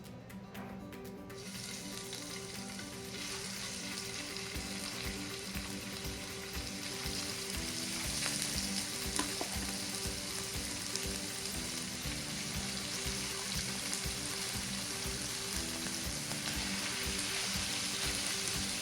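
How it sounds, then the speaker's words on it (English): Steaks frying in a pan give off a continuous, close sizzle with crackling spatters and faint stirring or scraping, steady throughout with no talking. "now it's time to add our steaks"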